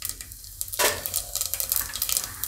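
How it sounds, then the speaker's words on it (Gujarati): Mustard seeds and cumin seeds crackle and sizzle in hot oil in a pan, with a quieter start and then a loud burst of spitting, popping hiss that stays busy and close. "તેલ આપણું ગરમ થઈ ગયું છે તો પહેલાં આપણે એમાં રાઈ નાખશું હવે આપણે એમાં જીરું નાખશું"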